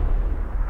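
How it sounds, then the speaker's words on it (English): A grenade blast in PUBG, a single loud, deep, muffled boom that fills the whole short moment with low rumble. "So I'm chucking these grenades all over the place."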